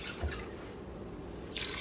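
Extra water poured into an Instant Pot for Southwestern chili, a soft running, trickling flow with a brief splash near the start and a brighter pour at the end, fairly quiet with no talking.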